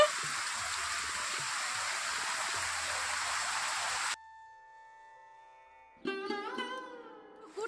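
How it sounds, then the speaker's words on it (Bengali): Heavy rain pours down as a dense, continuous roar for about four seconds, then cuts off to near silence before a brief voice-like sound. "ভীষণ ভীষণ বৃষ্টি হচ্ছে"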